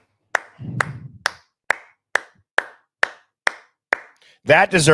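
Nine sharp, evenly spaced single claps ring out alone in a quiet room. A short murmur follows the first clap, and a voice comes in right after the last one.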